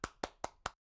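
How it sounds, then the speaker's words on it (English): Four quick sharp claps in an even rhythm form a short applause sound effect played in an online chat app, clear and close. "And if you want to clap for Nick, then you can click on the app"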